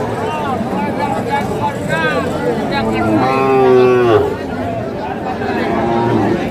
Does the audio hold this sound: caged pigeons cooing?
no